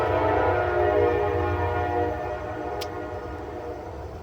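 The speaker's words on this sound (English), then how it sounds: "I also pause here for the train that goes by" A train rumbles past steadily nearby, its heavy low drone gradually fading, with a brief high squeal midway.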